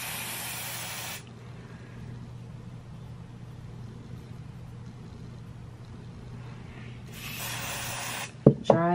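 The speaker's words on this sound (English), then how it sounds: "put the spray along the hairline now" A hair spray can sprays along the hairline in two bursts, a hiss of about a second at the start and another near the end, close by over a low background hum, followed by a brief clatter.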